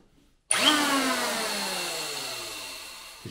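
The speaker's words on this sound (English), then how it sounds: "I'm just gonna use a planer set to the maximum depth." An electric planer set to maximum depth starts up and shaves down a twisted wooden wall stud while prepping a bathroom for tile, a loud, sudden whirring roar that holds steady and slowly fades over a few seconds.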